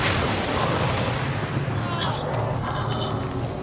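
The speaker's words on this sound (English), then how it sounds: "The gasoline fumes ignite, causing a huge explosion." A huge explosion on a boat as gasoline fumes ignite, heard as a loud, dense roar of noise across the whole clip that rumbles and swells without clear breaks, while faint voices sound beneath it.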